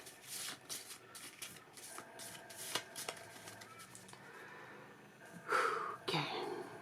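Cards are riffled and shuffled in quick bursts of crisp fluttering clicks, with a couple of louder shuffles near the end, close to the listener.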